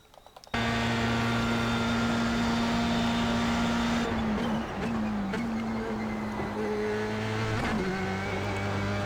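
A Formula 3 race car lapping Bathurst in a racing game, its engine holding a steady loud tone, then dipping as it shifts gear, with tyre noise and a brief squeal near the end.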